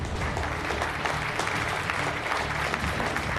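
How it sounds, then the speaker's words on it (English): An audience at a televised real estate and business excellence awards ceremony applauds the winners. The clapping is moderate and continuous, with a low musical bed running underneath. "can we have a huge round of applause for all the winners?"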